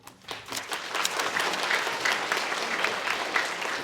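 Sustained clapping from an audience at an elementary school award ceremony honoring a visitor, rising quickly and holding steady and fairly close, with faint cheers mixed in.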